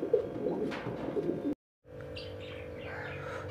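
Pigeons coo and chirp close by in a bird shop, the sound cut by a brief dropout, then continuing with more calls and background murmur.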